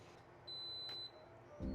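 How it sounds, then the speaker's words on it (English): A laminator's thin, high electronic ready beep holds steady for about half a second over quiet room hum, followed by a low thump at the end. "So that little beep you just heard is it telling me that it is ready"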